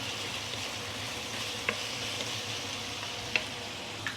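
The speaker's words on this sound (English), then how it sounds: "stir frying the chicken together with the ginger" Chicken pieces and ginger stir-fry in a pan, a soft steady sizzle with faint occasional clicks and scrapes of stirring, fairly quiet with no talking.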